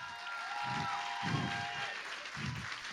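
An awards ceremony audience applauds Guillaume Lara at a French competition event, a steady wash of clapping from a crowd filling the room at moderate distance, with faint low voice-like murmurs rising briefly underneath.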